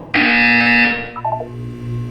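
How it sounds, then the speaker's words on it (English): A loud electronic buzzer from the Portal 2 video game sounds once, a steady harsh tone lasting close to a second, followed by softer trailing game tones and a low background hum. "You will hear a buzzer. When you hear the buzzer, look down at the floor."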